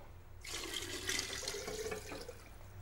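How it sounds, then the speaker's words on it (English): Sparkling club soda is poured into a rum and mint cocktail, a steady close fizzing, splashing stream that begins abruptly and runs for a couple of seconds with no talking. "Finish it off with some sparkling club soda, if you will, or some lemon lime soda."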